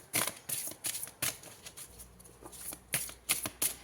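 Tarot cards rustle and slap softly against each other in a quick series of crisp shuffling flicks, close and fairly quiet, with no talking.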